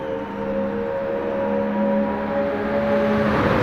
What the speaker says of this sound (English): It's also a very loud car.